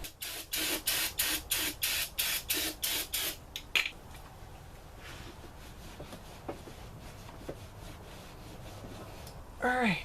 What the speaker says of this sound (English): I went through a brake cleaner and sprayed the subframe down, scrubbed it up